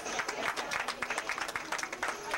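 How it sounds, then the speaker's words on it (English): Audience applause for models at a fashion show, a steady dense patter of clapping that fills the whole stretch at moderate volume with no voices on top. "A last clap for all of our models."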